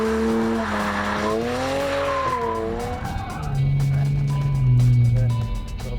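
A skid car fitted with hydraulically adjustable outriggers slides during drift training, its tires squealing in long wavering howls before a lower steady engine drone takes over.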